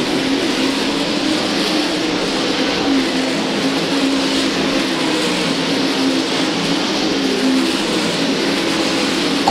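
Dirt track race cars roaring around Houston Speedway in heavy traffic, a thick, continuous engine drone that stays loud and unbroken with no voices heard.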